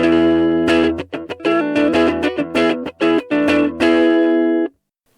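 Electric guitar on its neck pickup played through a Boss MG-10 amplifier set to a crunch tone, a loud close run of strummed and picked chords in uneven bursts with short gaps, ending abruptly.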